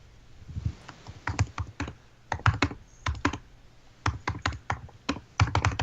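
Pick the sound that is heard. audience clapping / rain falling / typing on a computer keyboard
typing on a computer keyboard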